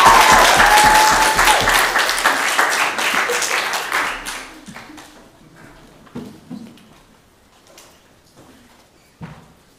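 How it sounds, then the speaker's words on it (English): Showcase audience applause, dense and loud at first, then thinning into scattered claps that fade out over several seconds. "Big round of applause."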